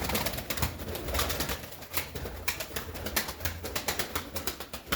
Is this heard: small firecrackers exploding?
no